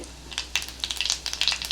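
Cumin seeds dropped into hot oil for tempering after mustard seeds have popped, giving quick bursts of crackling and sizzling pops in close, irregular clusters, fairly soft and with no talking.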